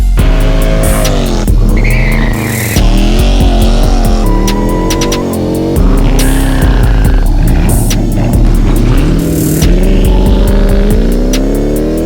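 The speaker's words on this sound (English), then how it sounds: "This is my Dodge Charger Scat Pack wide body. It's big, it's loud" A big red Dodge Charger Scat Pack widebody throbs through loud, continuous revs that rise and fall, with sharp bursts and a fairly close, aggressive roar over the whole stretch.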